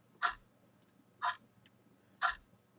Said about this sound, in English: The clock starts ticking.